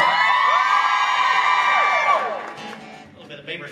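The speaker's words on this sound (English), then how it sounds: "I want every lady out there to scream and holler" A comedy club audience of women screams and whoops loudly together, a sustained shrill crowd cheer that fades out after about two seconds into scattered voices.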